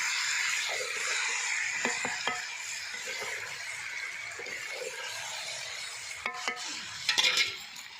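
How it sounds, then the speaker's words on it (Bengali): Meat coated in ginger-garlic masala fries hard for kosha, with a loud steady sizzle and occasional metallic scrapes and clinks of the ladle stirring the pan, heard up close. "মাংসটা এবার কষবে ভালো করে"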